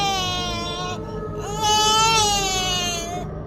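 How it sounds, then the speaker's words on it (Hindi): A baby cries upstairs in a haunted old mansion, a drawn-out wailing cry with rising and falling pitch held over a dark droning background, no speech. "ऊपर की मंजिल से एक बच्चे के रोने की आवाज आई।"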